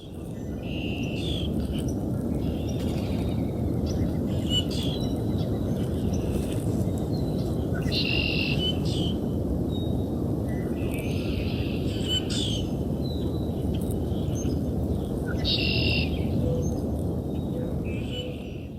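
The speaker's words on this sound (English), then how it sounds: "You hear some nice birds, and you hear the ocean waves through the woods." Steady broadband rushing of ocean waves heard through woods fills the background while birds at a pond chirp and call repeatedly above it, fairly close and clear.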